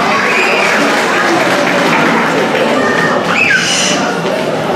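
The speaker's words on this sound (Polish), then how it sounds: "Gromkie brawa" Banquet crowd clapping loudly and steadily at a parish club's 25th anniversary celebration in Chicago, a dense sustained wash of applause with no break.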